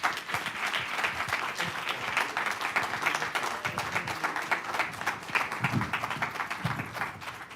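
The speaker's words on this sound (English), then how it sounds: "Would you all give them a round of applause?" Audience applause after a panel conversation at a policy event, a sustained burst of many hands clapping filling the room at steady loudness, with a few low voice murmurs underneath.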